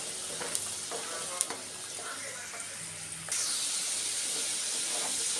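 Amla pieces are fried with stirring for pickle, giving a faint sizzle with a few light clicks of the utensil, then a sudden louder steamy hiss that continues to the end.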